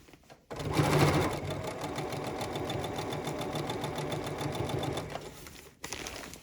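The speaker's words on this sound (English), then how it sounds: "And sew my 1/4 inch." Domestic sewing machine running a steady quarter-inch seam through quilt block pieces, a continuous rapid mechanical whir close up that starts after a brief pause and stops near the end, followed by a short restart.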